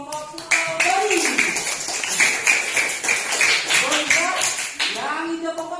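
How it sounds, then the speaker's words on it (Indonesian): Students in a classroom clapping for a student group, a burst of rhythmic hand claps that starts sharply and continues under children's voices and an adult's talk. "Tepuk tangan untuk kelompok Pulau Bali."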